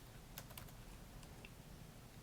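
Python code being typed on a computer keyboard, a few soft, scattered key clicks over a steady low background hum, faint and close.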